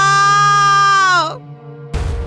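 Girl's crying as a sound effect in a Hindi horror story, a loud sustained wailing tone that bends downward and fades, followed after a short gap by a burst of noisier sound.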